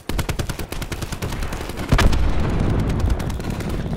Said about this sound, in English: That's the LMG from the Tears.